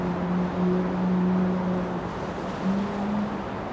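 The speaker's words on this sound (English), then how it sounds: "That's the 777 that just is starting its engines." A United Boeing 777 at Amsterdam Schiphol airport starts its jet engines on a windy, rainy day, a steady distant low roar with a rising and falling whine.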